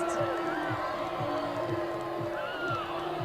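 A stadium crowd roars and whoops at a Raleigh Radiance versus DC Shadow pro ultimate frisbee game as a free disc is thrown into the stands, loud sustained cheering with individual shouts rising above it.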